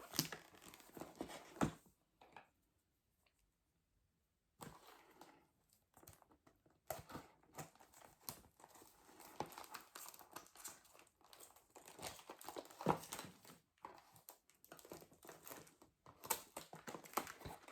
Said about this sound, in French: donc j'ai enlevé le plastique